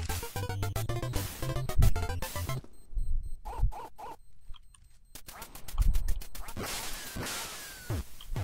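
Ducks from the Duck Hunt game in a Counter-Strike match quack in several short bursts among game noise, with a shouting voice and bursts of gunfire around them.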